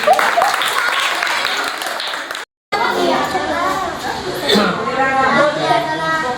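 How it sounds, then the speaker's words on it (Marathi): School children at a farewell ceremony in a Marathi school clap together in a scattered, crowd-like burst, broken by a short silent gap, while children's voices and chatter carry on over the clapping. "टाळ्या तरी वाजवायचं कमीत कमी."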